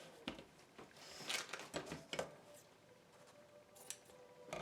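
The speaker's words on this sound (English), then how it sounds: "Okay, so we're gonna cut a nice piece." Scissors cut fabric for double oven mitts: a series of close, crisp snips and slicing strokes, some clustered and some spaced apart, over faint background handling noise.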